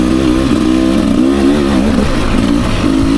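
2024 Beta 300 RR Race Edition two-stroke dirt bike ridden on single track, its engine loud and close, revving and burbling steadily throughout with wavering pitch and no talking.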